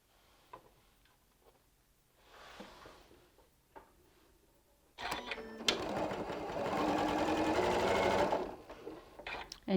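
A sewing machine runs steadily, stitching fabric pieces for a LeMoyne star quilt block. The motor hum comes in after quiet handling noises and holds for several seconds, close and fairly loud, then stops.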